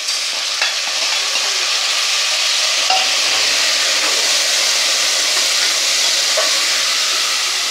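Minced mutton frying with onions in a pan gives a steady, loud sizzle and hiss, with a faint low hum running underneath and occasional small stirring clicks.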